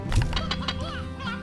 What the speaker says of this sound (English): I put a chicken in there for you.